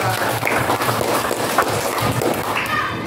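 Sixth-grade class in a classroom clapping for a classmate, a brisk, steady patter of hands with some voices mixed in, moderately loud and continuous.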